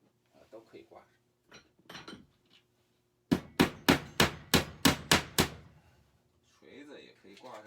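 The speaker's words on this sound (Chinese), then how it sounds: "你看这个锤子也可以挂上。" A metal hammer is hung on a tool-room wall, giving a rapid series of about eight sharp, loud knocks and clatters, with softer handling clicks and scrapes before and after.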